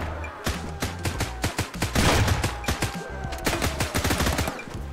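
Gunfire in the survival game Sunkenland comes as rapid, loud, irregular shots, in sputtering bursts and single cracks, close and dense over five seconds with no clear speech.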